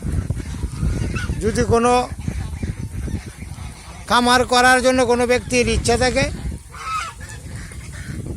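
On a duck farm, loud nasal quacking calls from a flock come in bursts close by, and someone speaks steadily over and between them.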